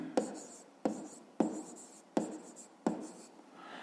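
Pen writing a fifth-grade math exercise on paper, five distinct taps at a steady pace, each followed by soft scratching strokes, close and quiet.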